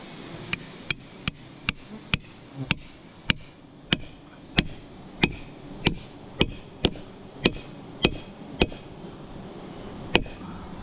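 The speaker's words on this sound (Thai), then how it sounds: "ผมจะตอกทอยหัว" A hammer drives a climbing peg into a large tree with about seventeen sharp, ringing blows struck at a steady, unhurried rhythm, loud and close, with no talk over them.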